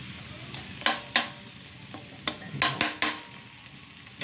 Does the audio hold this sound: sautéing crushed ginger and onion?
yes